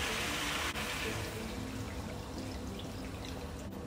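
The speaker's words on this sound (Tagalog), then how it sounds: "lagyan na natin ng tubig" Water is poured steadily into a pan of goat adobo as it cooks, a continuous splashing gush heard close and alone for several seconds.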